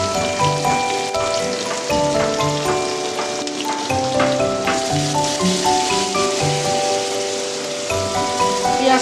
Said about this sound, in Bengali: পেঁয়াজটা একটু তেলে একটু ভেজে নেব